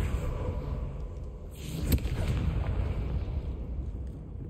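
A Confringo spell exploding in the Hogwarts Legacy video game, a deep rumbling boom with a sharp burst at its peak, layered over continuous low game rumble and noise.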